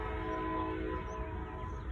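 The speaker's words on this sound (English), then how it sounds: "Of course, I'm competing with a train." A train rumbles steadily past near a cemetery, a low continuous roar with sustained tonal horn-like drones layered over it throughout.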